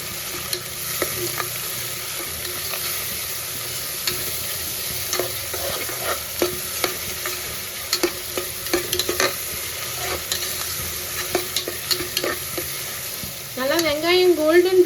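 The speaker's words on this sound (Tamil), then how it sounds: "இப்போ கருவேப்பிலை பச்சை மிளகாய் வெங்காயம் இது எல்லாத்தையும் சேர்த்தாச்சு இதை வந்து நல்லா வதக்கிக்கலாம்" Onion, curry leaves and green chili sautéed in hot oil, a continuous close sizzle with repeated scraping and clacking of a spoon against the pan, unaccompanied by speech.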